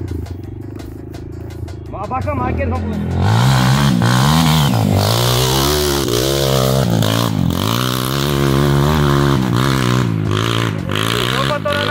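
Motorcycle engine revving and idling near a wooden trail bridge in Cumaru, Pernambuco, loud and close, with rising and falling pitch under brief Portuguese speech.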